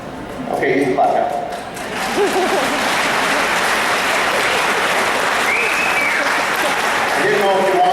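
Audience applause breaks out at a horse training demonstration with a filly at the Mane Event in Red Deer, steady dense clapping filling the space for about seven seconds, with a few voices and whoops over it.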